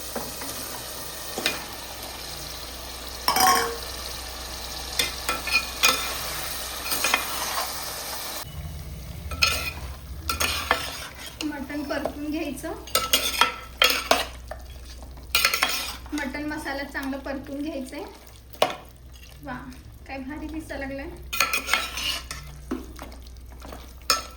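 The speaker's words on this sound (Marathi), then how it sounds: "आता मटणाचे जे पीस आहेत ते मिक्स करून घ्यायचे" A spoon scrapes and clatters in a pan as mutton pieces are stirred into sizzling masala for a Kolhapuri mutton dish, with steady frying hiss and metallic knocks, close up and without talk.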